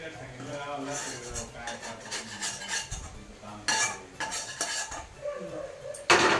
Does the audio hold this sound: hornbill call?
no